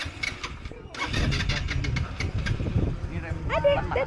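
An ATV engine starting at an amusement park in Malang, catching after a brief crank and settling into a steady mid-pitched idle, with people talking close by.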